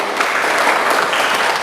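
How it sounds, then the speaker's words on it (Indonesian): An audience at a student talk show claps steadily and loudly in a dense, sustained burst of applause. "tepuk tangan dulu dong teman-teman."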